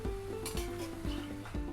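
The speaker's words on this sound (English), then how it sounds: "The sizzling will stop like this" Steady crackling sizzle of sweet shakarpara dough pieces frying in hot oil, with a few faint clinks and stirring scrapes, close and continuous.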